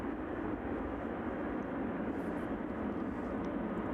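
A cargo aircraft taxiing under its own power toward runway 27 at East Midlands Airport on a chilly evening, a steady broadband engine roar held at an even level throughout with no voices.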